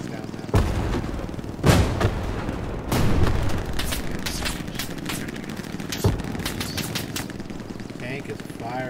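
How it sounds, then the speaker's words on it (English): Tank cannon fire in the World War II shooter Hell Let Loose: several heavy, booming blasts spaced a second or two apart, mixed with distant gunfire and continuous battlefield noise. "Tank is firing. Just their tanks."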